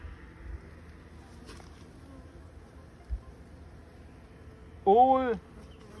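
Honey bees around a hive, a faint continuous buzz under a man's speech, with a short brief louder voice-like burst near the end.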